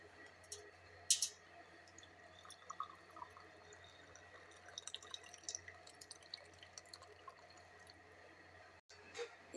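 Kahwa green tea is poured into a cup and runs in a quiet, thin trickle with a few soft drips, close by and without talking.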